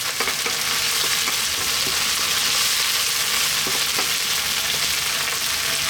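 Fresh chili sizzles in a hot pan for fish curry as a dense, continuous, loud frying hiss with faint intermittent crackles, and no talking.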